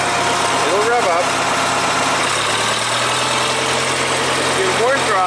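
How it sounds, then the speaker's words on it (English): The engine of a 1975 International 574 tractor idles loudly nearby and twice revs up as throttle is slowly applied, its pitch climbing over a steady low rumble. "if you slowly give it throttle, it'll rev up"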